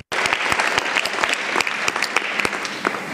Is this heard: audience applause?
yes